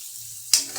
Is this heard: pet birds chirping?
no